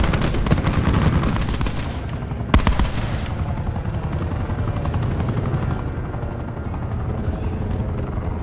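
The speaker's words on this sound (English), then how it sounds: "Attack chopper, close air support." An attack chopper roars close and loud in a Call of Duty: Black Ops 4 battle, rotor thumping steadily while bursts of machine-gun fire crackle over it and a sharp blast cuts through midway.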